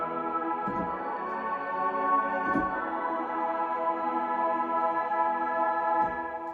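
A mellotron choir sound washed in heavy reverb from an old Microverb unit sustains a lush, steady chord for several seconds, close and even, with no voices.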